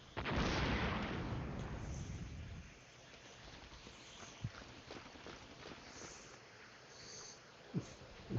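Artillery in the FCSS war game opens with a loud, booming roar that rumbles and fades over a few seconds, followed by quieter distant thumps and scattered sharp reports, with a faint voice now and then.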